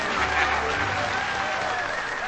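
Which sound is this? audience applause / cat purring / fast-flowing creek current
audience applause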